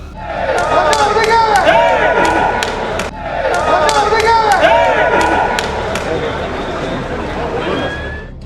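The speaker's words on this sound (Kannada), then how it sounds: "ಬೆಂಬಲಿಗರು ಜೈಕಾರದ ಘೋಷಣೆ ಕೂಗಿದ್ರು" A crowd of supporters chants slogans in loud rhythmic waves at an airport for a Congress MLA, voices surging together with cheering, then easing and rising again.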